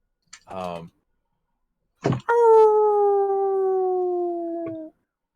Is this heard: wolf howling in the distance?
yes